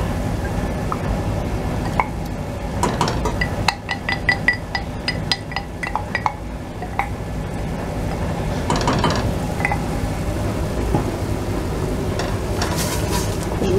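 A spoon stirs tomato pulp sauce in a pan for a meatball dish, giving soft scraping and a run of light clinks against the pan over a low sizzle, close by and with no talk.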